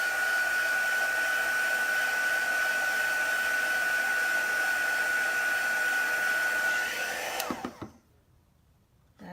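A hair dryer blows a steady, close, loud whoosh with a high whine as it dries chalk paste on a craft transfer, running alone for about seven seconds before switching off into quiet.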